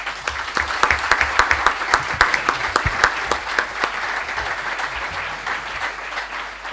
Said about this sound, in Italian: accogliamo con un bel applauso